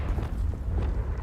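The Confringo fire spell in the Hogwarts Legacy video game goes off as a dense, rumbling explosion. It fills the whole short moment with heavy low-end roar.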